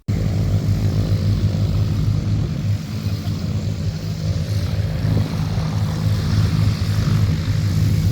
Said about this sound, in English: Then it was time for the formation takeoff.